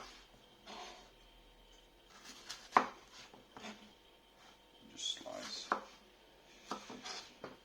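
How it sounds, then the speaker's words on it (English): A knife slicing the sides off a pepper on a cutting board, with a few sharp, irregular cuts and taps against the board, close and quiet, with gaps between strokes. "And then you slice your pepper"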